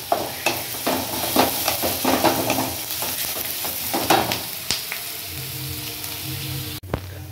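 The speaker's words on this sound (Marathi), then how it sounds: "आपले कांदे परतताय इकडं" Chopped onions sauté in a pan for a drumstick pod curry, a close, continuous sizzle broken by scraping stirs and clinks that ease off toward the end.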